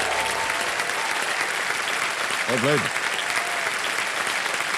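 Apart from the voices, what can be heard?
studio audience applause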